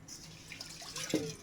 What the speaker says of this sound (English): Make sure you drain off all the water.